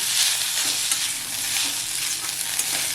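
Coriander leaves frying in a masala for chicken gravy, a continuous bright sizzle with light stirring throughout, close and fairly loud, no voices.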